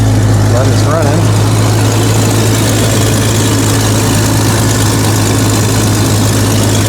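A Jeep XJ engine idles close by after a rough start, a loud, even, low rumble that holds steady throughout.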